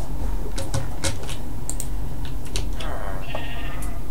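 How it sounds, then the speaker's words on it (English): Sheep bleating outdoors in short repeated calls, several bursts spread across a steady low background rumble, fairly close, with no talking. "Go find that other sheep."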